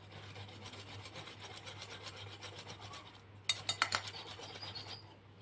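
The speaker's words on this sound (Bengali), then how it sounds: "প্রথমে একটা গ্রেটার দিয়ে আলুগুলো গ্রেট করে নেব, যাতে আলুর মধ্যে কোনো দলাভাব না থাকে।" Boiled potatoes grated on a metal kitchen grater, a soft repeated rasping that turns into sharper, louder scraping strokes toward the end, heard close and alone.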